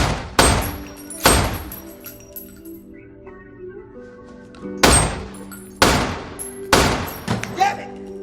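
A Winchester Defender shotgun fires five loud, sharp booming shots with decaying echoes at an outdoor gun range, irregularly spaced, with people talking faintly between blasts.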